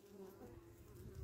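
Honey bees buzz steadily inside a top bar hive that has not been opened since it was built, a dense, continuous hum close by with no voices.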